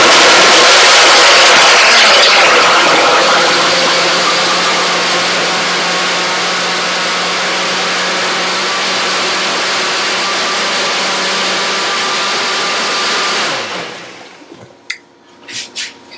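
A blender mixing a protein shake whirs loudly and continuously for about thirteen seconds, then stops, leaving a few faint clinks and knocks.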